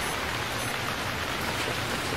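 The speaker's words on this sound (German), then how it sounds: "Und was haben wir? Regen. Ganz großartig" Rain falling in the Stranded Deep survival game, a steady, even hiss of dense drops pattering on surfaces, constant and moderately loud without any voices.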